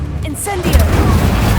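The Incendio fire spell goes off in Hogwarts Legacy as a sudden booming burst with a crackling rush and a low rumble after it. A voice shouts the spell name just before.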